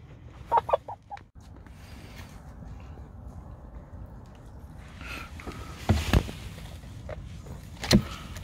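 A chicken gives a few short clucks early, with more sharp calls and rustling later, against a low background rumble and no clear speech.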